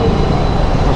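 Dense road traffic under a flyover at Marthandam, a loud steady rumble of cars, buses and trucks close by with no let-up.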